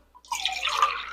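Water poured into a frying pan to make sugar syrup for atta and desi ghee sheera, a short splashing, trickling stream starting after a brief drip and running steadily to the end, close and moderately loud.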